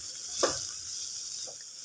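Drumstick flowers frying in oil in a pan, giving a soft, steady sizzle close by with a brief stir or scrape, and no talking.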